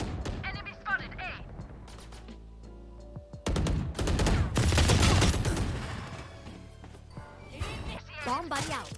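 Vandal rifle fire in the Valorant video game, heard as scattered shots and then a dense, loud burst of automatic fire in the middle, mixed with game effects and people talking.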